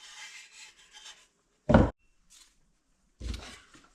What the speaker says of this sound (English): just run your hand all over their box and make sure it just feels nice